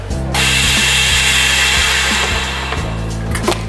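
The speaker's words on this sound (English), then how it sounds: "Then the heat seal will come up and seal the bag." Vacuum sealer pulling a bag tight around a fish fillet and heat-sealing it, a loud steady mechanical whir and hum with rhythmic clicking pulses throughout.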